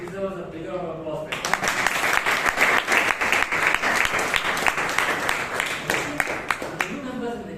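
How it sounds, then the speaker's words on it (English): Applause erupts at a Toastmasters club meeting in Bangalore after a speaker finishes talking, a room of people clapping steadily and fairly close for several seconds, with speech heard briefly at the start and end. "This deserves a bigger applause."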